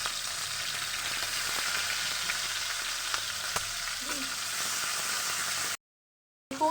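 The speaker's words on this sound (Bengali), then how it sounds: "এখন ভাজবো।" Shrimp coated in salt and turmeric fry in hot oil with five-spice seeds in a heated pan, making a steady close hiss and sizzle with a few faint stirring taps before the sound cuts out abruptly.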